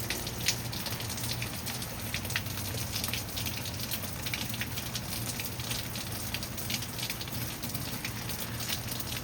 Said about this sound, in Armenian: որ անձրևի ձայնն է